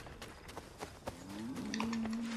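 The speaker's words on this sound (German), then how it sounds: "Ah, hier, Pferde." Horses in the video game Assassin's Creed III, a couple of snorts or whinnies from nearby animals with a rising, sustained neigh at the end, over soft thuds of movement, moderately quiet.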